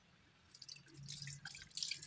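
Faint water drips and trickles into a basin of foamy dishwashing liquid, soft and close, with a low background hum and no voices.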